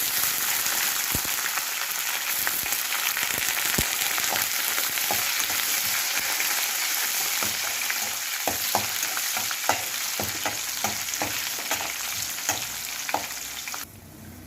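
Curry leaves and onions frying in hot oil with garlic for a gongura dal tempering: a loud, dense crackle and sizzle continues throughout, with sharp pops scattered through it and no talking.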